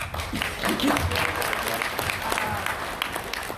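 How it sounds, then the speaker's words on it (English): A crowd at a pro wrestling fan panel at a convention gives a round of applause, steady clapping of moderate loudness with some voices mixed in. "We have a round of applause."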